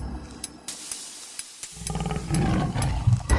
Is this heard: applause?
no